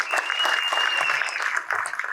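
A commencement ceremony crowd claps in a round of applause for a councilmember. It is a brief, steady burst of mid-distance clapping with a faint, thin ringing tone above it.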